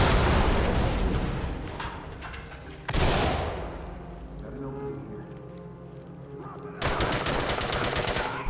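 In the Ready or Not video game, a C2 door breach and flashbang go off as two sharp explosive bangs several seconds apart, each followed by a decaying rumble, with loud gunfire and mechanical clatter before the first.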